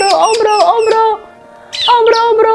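A long-tailed shrike perched on a hand sings loud, close, harmonic whistled and chattering phrases in quick bursts, pausing briefly before resuming.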